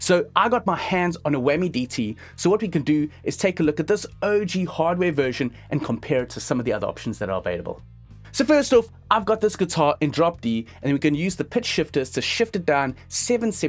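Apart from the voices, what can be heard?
None of the usual background noises is heard.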